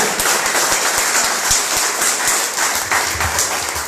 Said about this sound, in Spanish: Pero dele fuerte las palmas a Él.